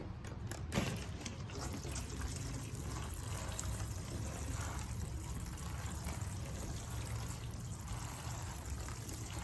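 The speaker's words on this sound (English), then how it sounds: "So just water this in." Water pours steadily onto soil in a nursery can holding a large elephant ear plant, a soft continuous trickle and splash that stays close and fairly quiet throughout.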